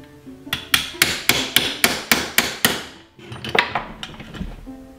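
A hammer tapping a steel punch to set a rivet on an MP5 build, a sharp metallic blow repeated about eight times at an even pace, then a few lighter scattered taps and clinks nearby.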